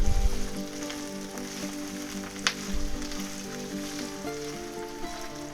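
Peppers and onions frying in a hot pan for a roast beef sub, a steady close sizzle with a brief clatter partway through and some faint background tones.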